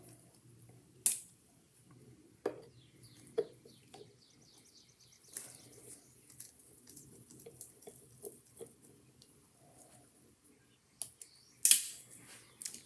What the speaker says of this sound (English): And we're going to take this screw out.